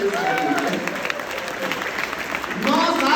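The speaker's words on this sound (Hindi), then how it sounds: "तालियां बजानी तो एक साथ बजानी।" Live audience clapping together at a comedy show, loud and dense, rising again toward the end with voices mixed in.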